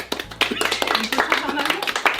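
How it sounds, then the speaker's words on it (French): A small group claps at a birthday party, uneven and close, with voices talking and laughing over the short burst. "On applaudit s'il vous plaît."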